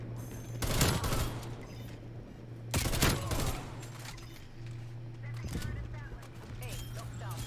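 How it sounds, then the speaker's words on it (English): Bursts of sentry turret gunfire in a video game, three loud rapid volleys spaced a few seconds apart over a steady electronic hum. "Hostile sentry turret active."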